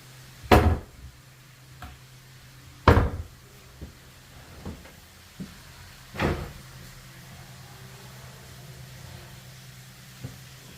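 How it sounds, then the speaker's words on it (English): A large wooden cabinet with four inch-thick doors gives a series of knocks and thumps as the doors are opened and shut: two loud, close bangs near the start, then a third firmer thud and several softer taps spread over a quiet room. "this is just one big giant cabinet with 4 doors"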